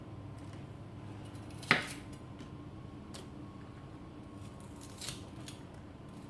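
A single crisp snip of a knife or scissors cuts the top off a tomatillo, close and clear against a quiet kitchen, with a fainter second cut a few seconds later.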